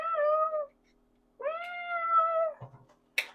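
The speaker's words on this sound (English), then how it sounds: "that's why you're meowing like that" An orange tabby cat meows twice, long drawn-out calls close to the microphone in a quiet room, followed by a small clatter and a brief click.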